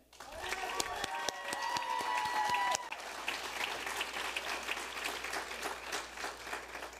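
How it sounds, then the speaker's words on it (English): Applause from a large audience for a valedictorian at a high school senior awards night, with loud, sharp nearby claps in the first few seconds over a dense roar of clapping that continues steadily. "Please give a round of applause to Jaden Nguyen"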